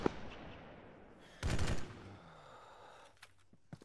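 Gunfire in Arma 3: a short burst of automatic shots cracks out in the middle, followed by a few scattered distant single shots and faint background noise.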